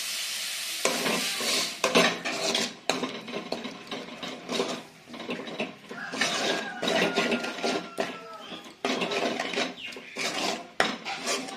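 Fish curry made with water boiled with kudampuli (Malabar tamarind) is stirred in a pot: irregular scraping and clinking of a spoon against the metal, with soft bubbling underneath and no talking.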